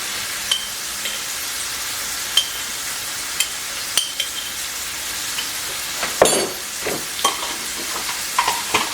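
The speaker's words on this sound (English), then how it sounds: "I'm going to stir up my container a little bit." Spoon stirring a container of ranch chicken mixture with homemade ranch seasoning, a steady wet scraping texture broken by irregular clicks and taps against the container, close and alone with no talk.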